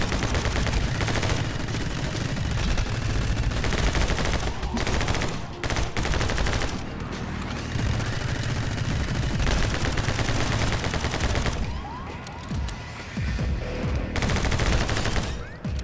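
Gunfire in the video game My Friend Pedro, dense rapid shooting running almost continuously with bursts and brief gaps, loud and mixed with game music and effects.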